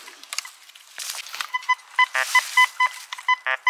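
Golden Mask 1+UK metal detector gives a series of short, clipped electronic signal tones, growing more regular toward the end, over faint scraping and handling noise outdoors while searching for iron in a dig hole.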